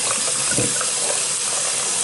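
Steady hiss of tap water running over a glass piece to rinse off etching cream, a constant close gushing stream with no talk.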